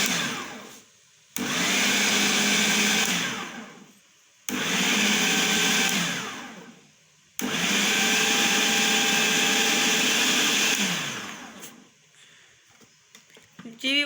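A kitchen chopper whirs loudly in three long bursts, blending kachnar buds with minced qeema, each run stopping abruptly before the next, with brief quiet gaps between.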